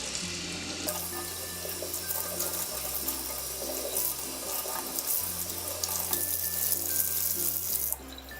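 Cool tap water runs steadily from a faucet into a sink, wetting polyester fabric before dyeing; a constant, close rushing stream with no talking.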